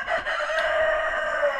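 Roosters in a chicken coop crow in one long, loud, sustained call that fills the whole moment close by, with no talking over it.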